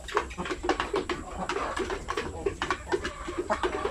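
Several chickens cluck and chatter continuously nearby, a busy overlapping flock sound with no talking.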